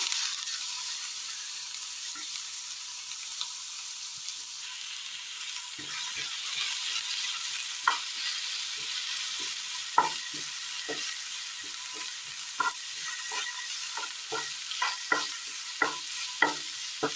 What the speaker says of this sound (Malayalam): ഈ എണ്ണയിലേക്ക് സബോള അരിഞ്ഞത് ചേർത്ത് കൊടുക്കാം